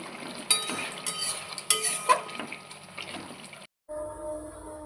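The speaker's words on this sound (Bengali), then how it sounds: "মাছটা দিয়ে দিলাম দিয়ে আর একটু ফুটিয়ে নামিয়ে নেব" Rita fish curry with potatoes bubbles and simmers in a pot with stirring and watery splashes, a few louder clatters, then a brief pause before a quieter steady tone.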